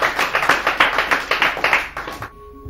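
An audience in an Urdu quiz programme claps for a contestant's correct answer, about a dozen fairly close, regular claps that stop abruptly near the end.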